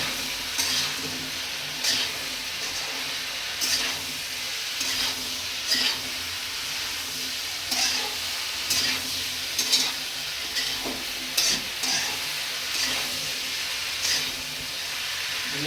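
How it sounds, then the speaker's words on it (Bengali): Salted food is stirred in a hot pan, giving a steady sizzle with repeated scraping strokes every second or two, close and fairly loud with no talk. "এখন আমরা ভালো করে ওটাকে মিক্স করে নেব।"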